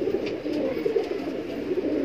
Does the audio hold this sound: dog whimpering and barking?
no